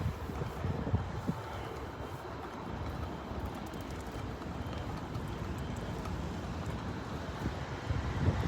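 Strong wind blows steadily outdoors beside a roadside bus stop near a petrol station, a continuous broadband rush with gusty buffeting on the microphone and no voices.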